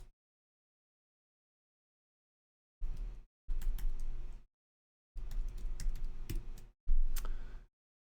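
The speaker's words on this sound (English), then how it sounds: "I'm just going to type out welcome." Four short bursts of quick keyboard typing, crisp and close, separated by silent pauses after a long quiet start.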